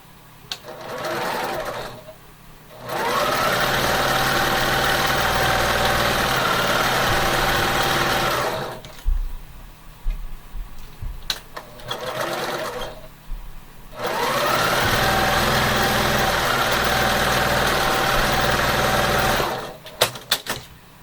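A sewing machine stitches hourglass quilt block seams in long, steady bursts of close, even whirring, separated by short pauses with faint fabric handling between runs.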